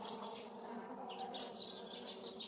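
Honeybees buzzing around a hive during swarming, a continuous faint droning hum with scattered higher insect whines drifting close and away, no voices.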